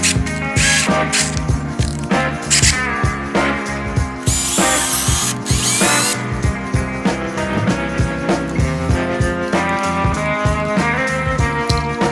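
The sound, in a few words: drilling and tapping holes with drill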